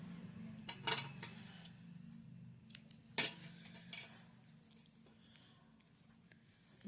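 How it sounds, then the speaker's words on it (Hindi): Scissors snip through crochet thread at close range in a quiet room, a few sharp clicks of the blades with a low hum underneath and no talking. "यहाँ पर धागे को काट देंगे"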